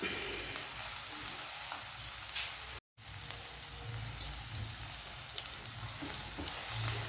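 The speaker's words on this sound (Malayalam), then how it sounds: "ഒന്ന് വരണ്ട് വരുമ്പോഴേക്കും നമുക്ക് ചതച്ച് വെച്ച ഇഞ്ചി, വെളുത്തുള്ളി ഇതിലോട്ട് ഇട്ട് കൊടുക്കാം." Crushed ginger and garlic frying in oil for a Kerala-style sardine curry give off a steady, fairly quiet sizzle with a brief gap partway through, and nobody speaks.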